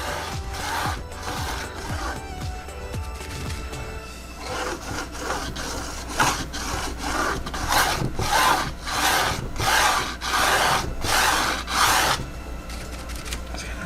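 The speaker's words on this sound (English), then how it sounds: "I'm going to keep all of my scraping to a horizontal." Paint scraped horizontally across a canvas background for an abstract sunflower painting: scratchy, rasping strokes, uneven at first and then settling into a steady rhythm of close, loud scrapes.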